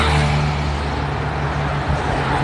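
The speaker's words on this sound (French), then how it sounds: "Porsche Macan qui descend." A Porsche Macan drives down a Monaco street, its steady engine hum and road roar loud and close throughout, with no one talking.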